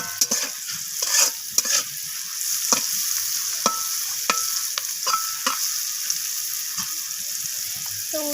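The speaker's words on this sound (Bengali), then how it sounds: "লবণ আর হলুদটা দিয়ে উচ্ছেটাকে আবারও লালচে করে ভেজে নিচ্ছি।" Bitter gourd fries in a pan with salt and turmeric, a constant close sizzle broken by repeated sharp scrapes and clacks of a spatula stirring the pieces, with no voices.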